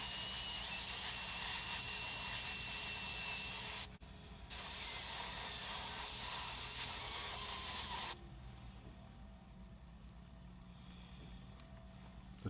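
An airbrush sprays acrylic paint onto a miniature model bush, giving a close, continuous hiss that cuts out briefly, resumes, then drops to a softer airy hiss for the last few seconds.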